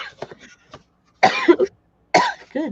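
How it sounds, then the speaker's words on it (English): Repeated coughing fits from a person on a call, a few bursts close to the microphone separated by brief pauses, with some quieter throat sounds before them. "I can't stop coughing."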